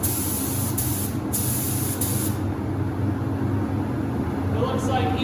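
An Anest Iwata W400 WBX spray gun sprays at 29 PSI, giving a steady, loud airy hiss that runs unbroken from start to finish with a faint hum beneath it.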